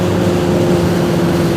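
Steady, close engine drone from a 2021 Honda CBR1000RR ABS cruising on the road, a continuous low hum with wind rush and no pauses or speech.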